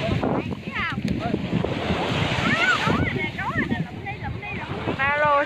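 Sea waves wash onto the beach at Mũi Nai in Hà Tiên, a steady close surf roar with wind buffeting the microphone, while someone talks over it throughout.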